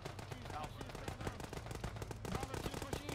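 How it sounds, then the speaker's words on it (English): Automatic weapons fire in an Arma ShackTac mission crackles in steady rapid bursts, moderately distant, with voices talking faintly over the shooting. "The sound of automatic weapons fire when we get home."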